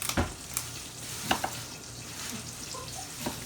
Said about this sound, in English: you're gonna let this cook for a little bit, for the garlic to cook.